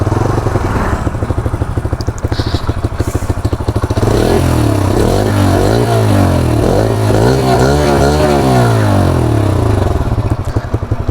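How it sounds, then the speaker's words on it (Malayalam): Bajaj Freedom 125 CNG motorcycle exhaust note, heard up close and alone: a steady idle burble, then repeated revs that rise and fall in several clear sweeps before settling back. "ഇതാണ് വണ്ടിയുടെ ഒരു എക്സോസ്റ്റ് നോട്ട് എന്ന് പറയുന്നത്."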